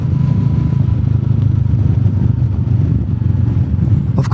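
A Royal Enfield Meteor 350 fitted with a FuelX Pro engine module thumps steadily while riding, its loud, continuous low engine rumble mixed with wind noise.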